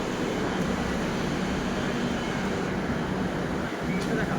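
Inside a moving Kolkata metro train, a steady, loud rumble and whir of the carriage fills the space without a break, with faint voices now and then beneath it.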